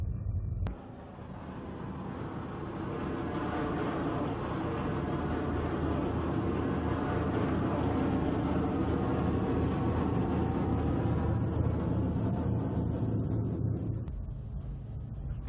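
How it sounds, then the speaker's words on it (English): Arado Ar 234 Blitz jet bomber, loaded with three bombs and two RATO units, taxiing out to the runway: a steady, loud jet engine roar that swells in after a sharp start and holds for about thirteen seconds before cutting off. "The AR-234 bomber, with 3 bombs and 2 RATO units attached, taxis out to the runway."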